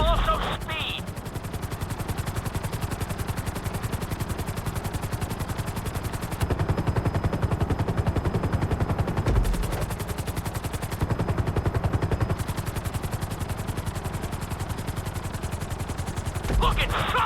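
A helicopter in the GTA V video game makes a continuous rotor chop with a dense, rapid beating that stays loud and steady throughout. Brief dropouts break it midway, and a voice speaks briefly over it.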